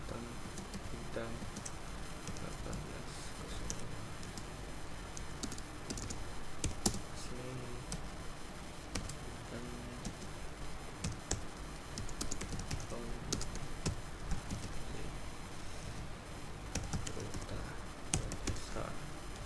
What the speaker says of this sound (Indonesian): lalu kita buka cron tab min dan pada cron tab ini kita ketikkan